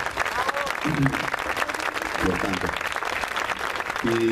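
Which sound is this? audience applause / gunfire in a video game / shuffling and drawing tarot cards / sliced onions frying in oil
audience applause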